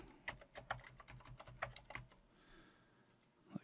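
Soft, close clicking of a computer keyboard as a password is typed during Windows 10 setup, a quick irregular run of keystrokes that trails off into quiet with a final tap.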